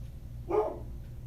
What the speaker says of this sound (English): I have to stop for the dog barking again.